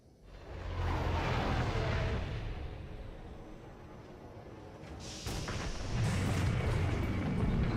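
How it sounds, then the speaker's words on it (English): Heavy artillery explosions in Star Wars: The Old Republic roll in as a loud, sustained rumble, swelling and then booming again with a fresh blast near the end, without speech. "Enemy artillery incoming!"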